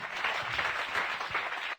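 A church congregation claps loudly together during a worship service, a dense, steady wash of applause filling the whole stretch before cutting off at the end.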